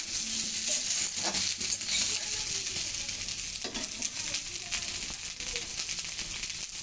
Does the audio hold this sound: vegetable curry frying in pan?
yes